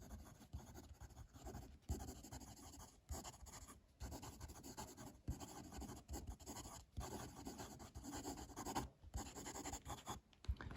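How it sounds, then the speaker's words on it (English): Fountain pen, a Eureka Asymmetry Diamond Dodecagon, scratching quickly across paper in steady bursts of strokes with brief pauses between them, close and fairly quiet, with no voices. "Let's do some quick writing."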